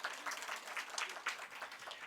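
A church congregation claps together, a dense patter of hands that holds steady for a couple of seconds, moderately loud with no voices over it.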